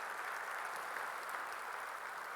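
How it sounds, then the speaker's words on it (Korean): Steady applause from a church congregation during a Sunday worship service, a dense, even wash of clapping that holds at moderate volume for the whole stretch with no voices over it. "박수하시겠습니다."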